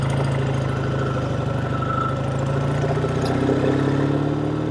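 A 1948 Triumph T100 Tiger 500cc motorcycle engine runs steadily and close, a loud throbbing mid-low rumble with rapid regular firing pulses and a slight rise in pitch near the end.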